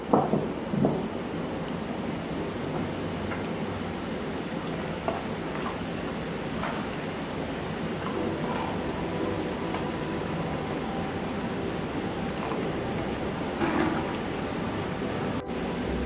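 Thin slivers of ginger frying in hot oil over a high flame for a dry fish pickle, a steady dense sizzle that holds at an even level throughout with faint clicks and stirring taps.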